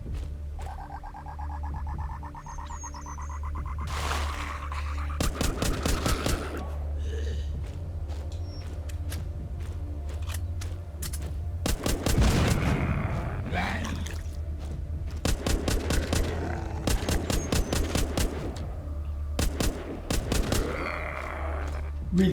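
Gunfire in the video game Walking Zombie 2 as zombies are shot, several bursts of rapid sharp shots over a steady low game hum, with some grunts and game effects between them.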